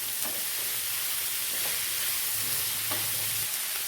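Chopped tomatoes for egg ghee roast sizzling and being stirred in a pan, a dense hiss with occasional soft scraping strokes, no speech.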